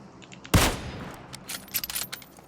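One sharp, loud gunshot cracks out, followed by a string of softer, more distant shots, in the battle royale shooter PUBG Mobile.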